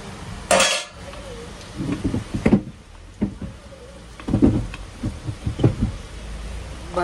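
Pots and utensils are taken out and handled, a series of close metallic clanks, clatters and knocks. They come in irregular bursts with quieter gaps between them and no voices.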